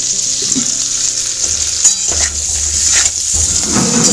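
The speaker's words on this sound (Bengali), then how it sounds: "তেলেই আমি এখানে আলুগুলোকে দিয়ে দিয়েছি আলুগুলো ভেজে নেব" Steady, loud sizzling of potatoes frying in hot oil, with occasional scraping and stirring sounds from a pan, and no voices.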